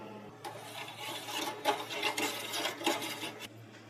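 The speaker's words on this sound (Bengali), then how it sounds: "চেরি পাউডারটা ঢেলে দিয়েছি এর মধ্যে, দিয়ে ভালো করে মিক্স করে নেব।" Strawberry-flavoured cherry powder is stirred into liquid for a sabudana falooda sharbat, giving soft rasping, scraping strokes against the container that come in uneven bursts before trailing off.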